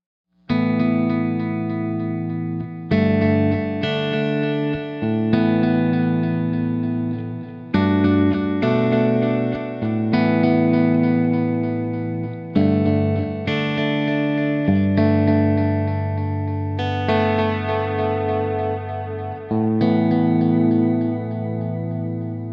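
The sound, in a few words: guitar played through Shawn Tubbs A.P.E Echoplex preamp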